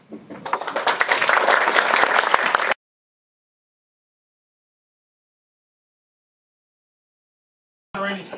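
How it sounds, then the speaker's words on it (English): Loud applause for speakers from an audience at a public forum for about three seconds, then silence, with a brief burst of clapping returning at the very end. "And again, for our speakers, again, a round of applause."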